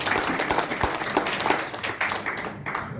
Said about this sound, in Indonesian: Berikan tepuk tangan untuk saya.